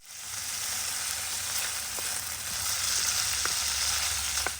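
Bacon sizzles and fries in a pan inside a campervan, a steady bright crackle with a few sharper pops near the end, close and continuous with no talk.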